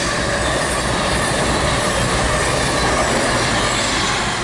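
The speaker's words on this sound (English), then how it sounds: "a train" A train rolls past an allotment garden plot, a loud, continuous broadband roar of wheels on rails with squealing and clattering, filling the whole stretch without pause or voices.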